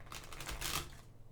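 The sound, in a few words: shuffling tarot cards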